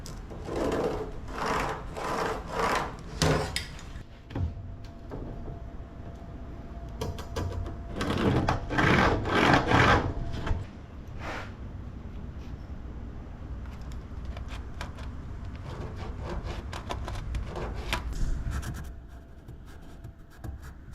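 Tin snips cut into the metal of a classic truck hood, giving rough rasping, crunching strokes in uneven bursts up close, with quieter scraping and handling sounds between cuts and no talking.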